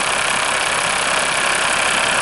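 A 1993 Mercedes-Benz 300SD W140 with a 2.5-litre turbo diesel idles close by in a steady, dense, unbroken rumble with no talking.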